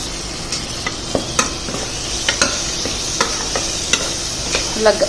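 Tomato pieces stirred into a sizzling masala curry of field beans in a pan, with a constant frying hiss and regular spoon scrapes and knocks roughly every half second, close and clear.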